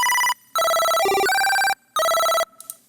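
A Serum synth lead with its LFO set to trigger mode, giving a bright, ringing, telephone-like tone in several loud pulsed bursts separated by short silences, with no voices.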